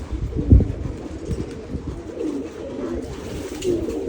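Pigeons, among them a crested hen, coo in low, throaty, rolling calls that repeat steadily and sound close by, with no talking.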